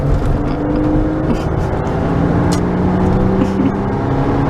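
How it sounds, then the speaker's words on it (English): 2004 Porsche Boxster with manual transmission accelerating toward highway speed: a steady loud engine drone with rising tones, mixed with road and wind noise heard from inside the car. "We'll get it up to highway speed so you can see exactly what it is."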